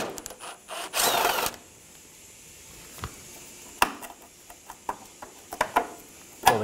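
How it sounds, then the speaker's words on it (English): Ratchet work with a 10 millimeter socket removing a nut on a 2007-2011 Toyota Camry, heard as a burst of rapid clicking followed by scattered metallic clicks and taps, close and fairly quiet, with no talking. "Using a 10 millimeter socket, remove the nut."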